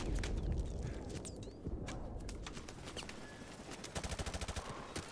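Rapid turret machine gun bursts in Modern Warfare Remastered, loud and close, with a dense run of evenly spaced shots near the end and scattered gunfire and game noise throughout.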